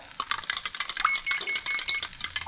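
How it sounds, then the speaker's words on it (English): A utensil stirs a cheesy mixture into broth in a small dish, quick clinking and scraping strokes in an irregular rhythm, close and fairly quiet. "Going to give that a good stir."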